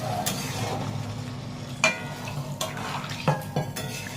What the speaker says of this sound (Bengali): চিংড়ি মাছটা আমি ঢেলে দিচ্ছি আর একটু জল দিয়ে দিলাম